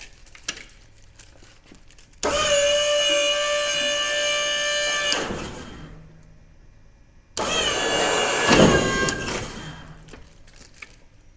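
Hydraulic pump on a 2003 18ft tilt bed trailer whining loudly and steadily for about three seconds, stopping, then running again with a rougher, strained tone before cutting off.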